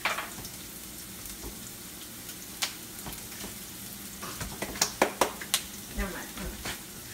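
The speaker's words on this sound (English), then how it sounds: "I'm going to put some tomato sauce in" Tomato sauce hits a hot frying pan, giving a low sizzle with a few sharp clicks and clatters of utensils toward the end; someone talks briefly in the background.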